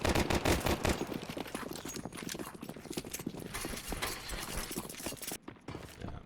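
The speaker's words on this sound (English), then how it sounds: "there we go. 2 deagle shots" Desert Eagle pistol shots ring out in a Counter-Strike match on the Nuke map, set among dense rapid gunfire and footsteps, busy and fairly loud.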